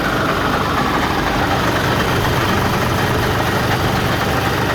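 A new twin-turbo combine harvester sits idling in a Buriram field, its engine giving a loud, close, unbroken throbbing rumble with no voices over it.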